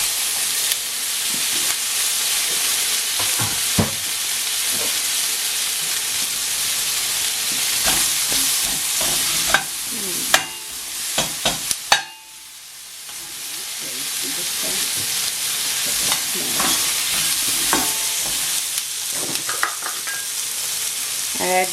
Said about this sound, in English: now add all vegetables